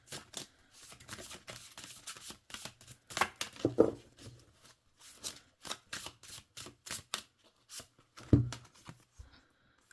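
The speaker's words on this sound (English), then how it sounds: "Okay, so let's shuffle." A deck of oracle cards is overhand-shuffled by hand, giving a steady run of quick papery slaps and riffling swishes close up, with no talking.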